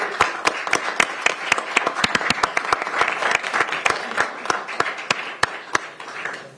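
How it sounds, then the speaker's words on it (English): Applause at a county council meeting, a modest group clapping with distinct, crisp individual hand claps close by, irregular and sustained for several seconds. "Let's give them a round of applause."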